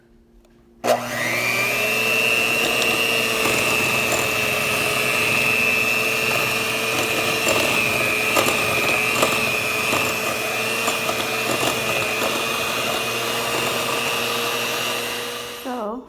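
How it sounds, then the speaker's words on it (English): A handheld blender creams butter and sugar for banana nut bread, its motor starting abruptly and holding a steady, loud whine for about fifteen seconds before winding down. "I'm gonna use my blender, my handheld blender, just to cream that into a creamy mixture"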